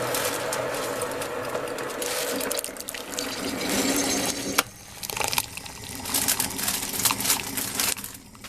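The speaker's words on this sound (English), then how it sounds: "So now hot water goes over it" Hot water poured over spinach in a frying pan, a continuous splashing and hissing liquid pour with a brief break midway, close and fairly quiet.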